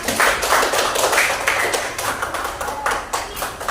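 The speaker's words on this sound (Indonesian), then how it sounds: "Kita akan semangat dengan tepuk tangan." Children in a classroom clap their hands together in a dense, fast, steady patter of many small claps. The clapping is loud and close and continues throughout with no talking.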